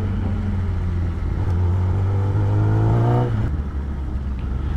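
A superbike engine at the start of an evening ride, idling steadily up close, then revving and climbing in pitch for a couple of seconds before dropping back to a low, rumbling idle.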